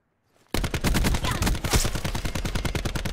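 Automatic gunfire in Call of Duty: Black Ops 4, 2v2 Search and Destroy on the Firing Range map: after a brief silence, a loud, rapid, evenly paced stream of shots runs for about three seconds.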